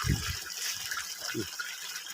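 Water gushing steadily out of a solar-powered pump outlet, a continuous bright wash of flow with low thumps underneath, fairly quiet throughout.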